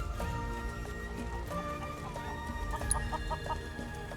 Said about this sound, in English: So we just need to catch your chickens